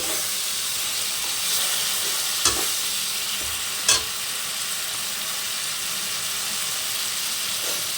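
Red spice paste frying in oil until the oil separates, a dense continuous sizzle with a few sharp spoon scrapes against the pan, close and steady with no voices.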